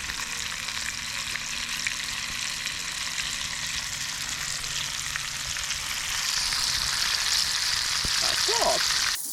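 Food sizzles and fries steadily in a pot over an outdoor campfire, a continuous crackling hiss that grows slightly louder toward the end, with brief voices near the close.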